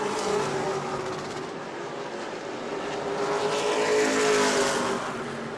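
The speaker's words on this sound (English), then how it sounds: "Last couple of cars on the lead lap are side by side down the back straightaway." Pro late model stock cars race around the New Smyrna oval, engines droning steadily at a distance in a continuous, slightly swelling roar with no talk over it.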